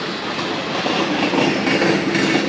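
A Norfolk Southern freight train rolls past close by in Crescent Springs, Kentucky, with a loud, steady rumble and rapid wheel clatter.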